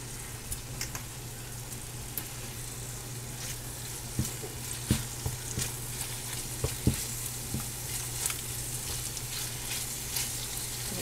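Leftover fajita ingredients sizzle and fry steadily in a pan, with a continuous hiss broken by occasional soft clicks and scrapes from stirring, close and moderately loud with no talking.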